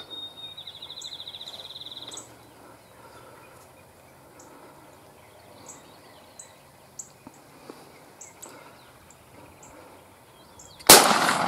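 A single loud, sharp gunshot rings out near the end during a duck hunt over decoys, after a stretch of quiet marsh ambience with bird calls and insect-like chirps.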